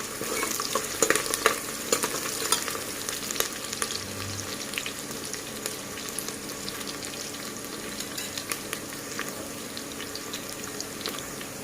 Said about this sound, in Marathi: कांदा चांगला ब्राऊन होईपर्यंत आपल्याला फ्राय करून घ्यायचा आहे